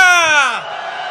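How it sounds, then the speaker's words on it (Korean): A crowd of protesters at a candlelight march raises a loud cheering shout on cue, with voices swelling together and then tailing off into a sustained roar. "함성 시작!"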